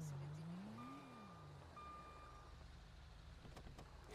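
A car engine in a video game set in Liberty City revs up and then falls away, with short electronic beeps, faint traffic noise, and low-level game ambience.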